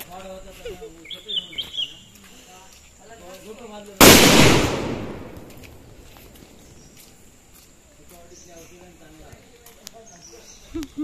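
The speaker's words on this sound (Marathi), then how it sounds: "आता काका बॉम्ब लावतायत." A firecracker bomb goes off during a Ganesh idol immersion: one sudden, loud blast with a long fading rumble, set between stretches of chatter from people nearby, with birds chirping in the background.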